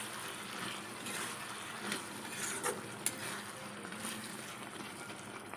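Ridge gourd and fish curry bubbling gently in a pan, a soft steady sizzle and simmer with faint scattered pops and clicks, quiet and close.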